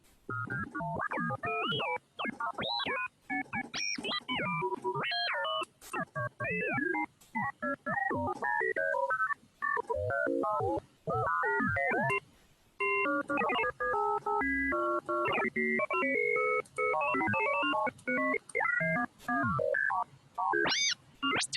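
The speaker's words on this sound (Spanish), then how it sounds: "Y así suena el Ring Modulation." A ring-modulated synthesizer tone skips through rapid, clangy, bell-like pitch jumps in short broken phrases, dry and close, with no talk.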